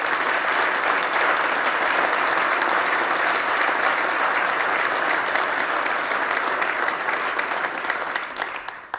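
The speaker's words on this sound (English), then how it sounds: "I'd like you to just give these businesses a round of applause for doing that." An audience at a city event gives a sustained round of applause for local businesses, a dense, bright clapping that holds steady for several seconds before fading out near the end.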